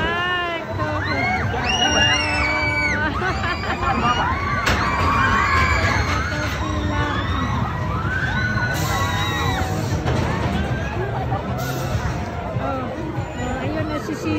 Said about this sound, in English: they're shouting and they're shouting